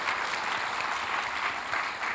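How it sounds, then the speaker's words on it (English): Steady, dense applause from an audience at a book talk, continuous and even throughout with no voices standing out. "how about a little bit of applause?"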